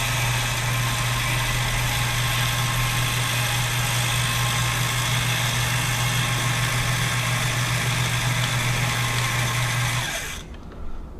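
The bobbin winder on a White 600 sewing machine runs with a steady, even motor hum and whir for about ten seconds, then cuts off and fades into quiet.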